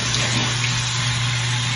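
Tap water running steadily while a clay face mask is washed off at a sink, a continuous close splashing rush with no pauses.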